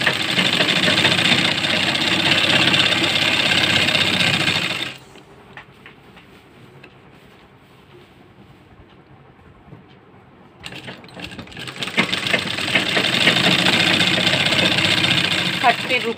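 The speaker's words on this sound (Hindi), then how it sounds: "अब इसको स्टिच करते हुए हम आगे की तरफ आ जाएंगे।" A sewing machine stitches salwar fabric, running loud and steady, then going quiet for several seconds before the motor whirs back up and continues stitching.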